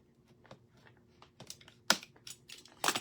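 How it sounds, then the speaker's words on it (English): A cutter works through flexible WoodUBend decorative trim on a silver tray, producing a series of small clicks and a few sharper snaps that grow louder near the end, close by and quiet overall, with no speech. "So I'm going to cut this."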